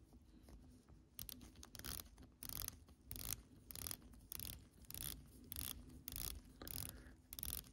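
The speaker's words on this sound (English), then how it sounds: "Let's do the ratcheting on the Seiko 5 and see how much of a difference." Crown of a Seiko 5 watch being wound, giving a close, dry ratcheting click in repeated bursts of rapid clicks separated by short pauses, with no talking.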